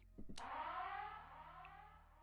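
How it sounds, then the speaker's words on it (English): A siren alarm in the video game Shattered Pixel Dungeon sounds after a short clicking onset, then holds a single wailing tone that slowly fades over about two seconds. "that's a siren that's gonna let everyone know exactly where I am"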